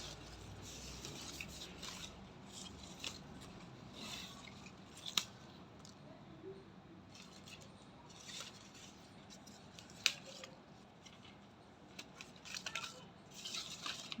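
Scissors snip leaves off a croton plant, with a few sharp, quiet cuts spread out over a soft rustling background.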